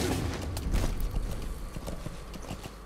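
Horse galloping in the video game Metal Gear Solid 5 (Phantom Pain), a steady rapid clip-clop of hooves, loud and close, with game rumble underneath and no talk.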